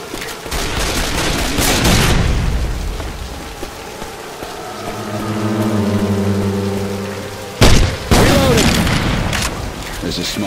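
Explosive-round gunfire from a shooter in Left 4 Dead 2, heard as loud, booming bursts over a dense, busy game soundscape, with a sharp blast near the end.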